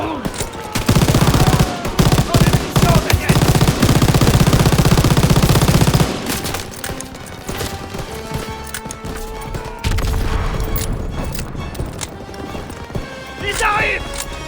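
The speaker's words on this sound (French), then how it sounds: "Que quelqu'un prenne la mitrailleuse!" Machine guns rattle in rapid, dense bursts during a World War II battle in Call of Duty WW2. The loud fire runs for about five seconds and then gives way to quieter battle noise.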